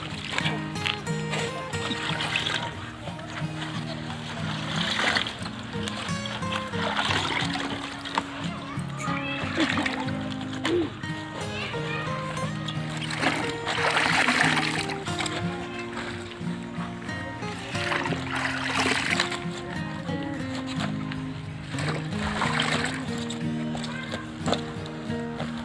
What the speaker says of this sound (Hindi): पहले पानी में धोया जाता है उसके बाद रखा जाता है